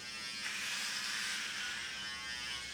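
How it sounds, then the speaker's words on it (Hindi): An electric hair trimmer with a 9 mm comb attachment runs with a steady, even buzz, continuous and fairly close for the whole stretch. "trimmer with comb,"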